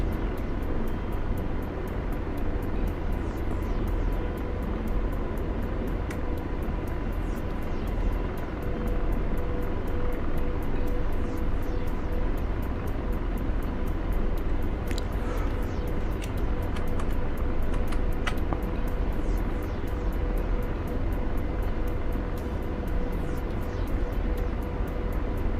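A video game helicopter flies low along a coastline, its steady rotor and engine drone continuous and fairly loud, with faint clicks and brief tones scattered over it.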